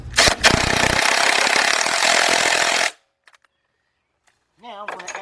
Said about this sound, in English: Now switch over to a 15 millimeter.